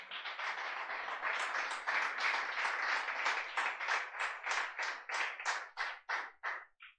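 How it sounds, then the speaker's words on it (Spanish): A church congregation bursts into loud, sustained applause during a worship service, the clapping close and dense before breaking into separate rhythmic bursts that fade out over about seven seconds. "Dar un fuerte aplauso al Señor."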